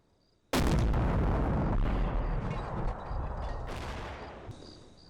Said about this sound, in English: The sporadic fire continues for the next couple of turns.